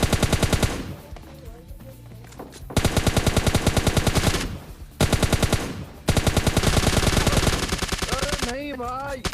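Gunfire crackles in PUBG Lite on the Asia server: long bursts of rapid automatic shots come in three loud stretches, broken by brief gaps, with a few fainter shots at the close.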